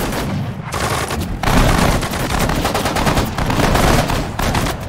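Dense, continuous gunfire from the World War II strategy game Sudden Strike 4, with rapid machine-gun bursts and overlapping rifle shots forming a loud, unbroken barrage with no pauses.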